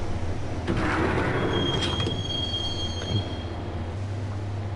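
Subway train ride in the video game Max Payne: a continuous rolling rumble with metallic wheel squeals and a thin high screech, loud and enclosed, without talk.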